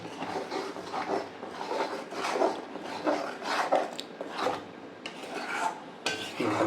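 Masala paste darkening in oil in a cooking pan for a butter paneer and katla fish kalia, stirred hard with a spatula in repeated rasping, scraping strokes, close and fairly loud with an uneven rhythm.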